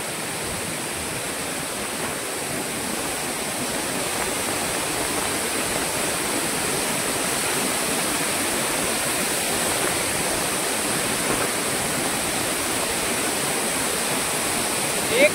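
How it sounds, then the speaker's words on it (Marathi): Water from Manache waterfall rushes in a steady, loud, full-bodied roar that holds unchanged throughout, with no voices over it. "इथे पाण्याचा धारा बघा फुल मारते हे बघा"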